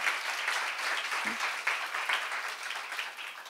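A church congregation claps during a sermon, a quiet, steady patter of many hands that sounds somewhat distant, with no talking over it.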